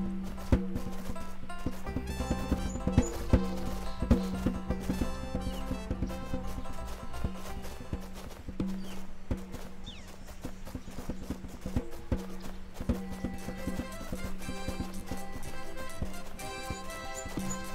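Horse hooves clop in a steady walking rhythm over looping background music in the video game Gabriel Knight: Sins of the Fathers 20th Anniversary Edition, with scattered clicks and no voices.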